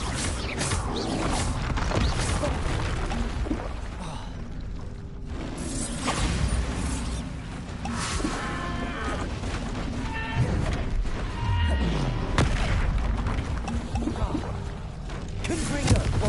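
Confringo blasting spells cast over and over in Hogwarts Legacy, a steady barrage of loud bursts, crackles and booming impacts layered with game music and a voice shouting, continuous and dense throughout.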